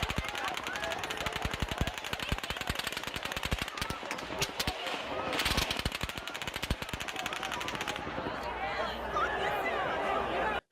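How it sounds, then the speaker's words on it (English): Rapid bursts of automatic gunfire from the Las Vegas shooting crackle continuously in long volleys, loud and dense, with a crowd's voices and chatter mixed beneath the shots. "There is low, further traveling sounds of shots fired."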